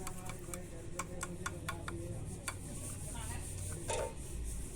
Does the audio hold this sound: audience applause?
no